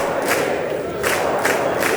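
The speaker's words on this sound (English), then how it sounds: "here's the Democrat chant of 4 more years" A large political crowd at a State of the Union address chanting in unison, a loud, roomy roar with rhythmic swells of massed voices across the short stretch.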